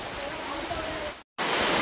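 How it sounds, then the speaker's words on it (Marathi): Rain falling heavily outside a village house, a steady hiss of downpour that cuts out briefly and then returns louder, with no talk. "पाऊस थोडा जोरा येतो."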